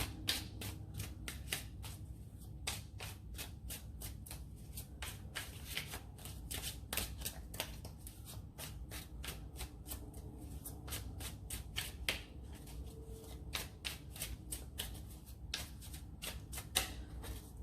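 Tarot cards are shuffled by hand over and over, a rapid stream of crisp riffling flutters and soft card slaps close by, with no talking.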